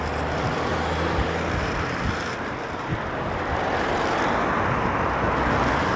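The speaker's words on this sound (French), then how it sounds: "je laisse passer les bagnoles" Steady roadway rumble of cars passing nearby, a continuous broad wash of traffic noise heard from beside the road while waiting on an electric scooter.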